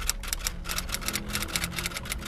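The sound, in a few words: typewriter typing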